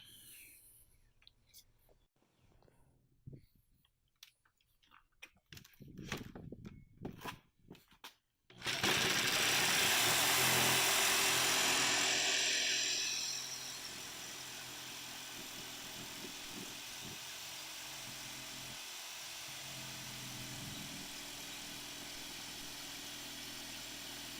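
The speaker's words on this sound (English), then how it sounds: "So I'll drill a hole, cut that, cut the outside." A few sharp knocks and taps, then a power drill whirs loudly at close range before settling into a steady, lower mechanical whine of cutting through MDF board.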